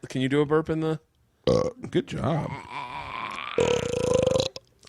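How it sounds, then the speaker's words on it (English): A young child forces out a few croaky burps between bursts of playful adult talk and laughter in a casual podcast setting, the burps short and close to the microphone. "Can you do a burp in the?"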